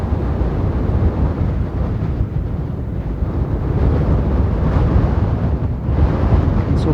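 Very strong wind at a volcano crater at night blasts a phone's microphone, producing a continuous loud rumbling buffet that swells and dips without a break, with no voices.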